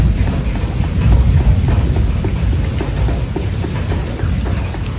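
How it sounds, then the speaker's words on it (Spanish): Steady heavy rain pours outdoors in a dense, constant hiss, with a low rumble of distant thunder rolling underneath throughout. "No sé si logran escuchar como que la lluvia, un truenito allá al fondo así pasando."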